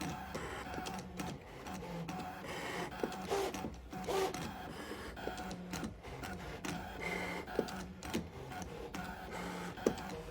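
A Brother ScanNCut machine cutting fabric hexagons for patchwork: a steady mechanical whir and rubbing buzz, with small clicks as the blade shifts and changes orientation, close and moderately quiet.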